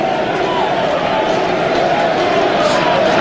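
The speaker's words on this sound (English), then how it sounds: "Accentuated by the crowd noise." Crowd noise at a 1995 Premiership football match between West Ham United and Blackburn Rovers: a dense, loud, continuous roar of many voices filling the stadium, with a commentator talking over it.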